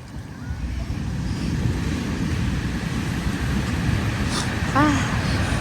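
Sea waves washing up on a beach, a steady rolling surf close by with wind buffeting the microphone and a brief voice near the end.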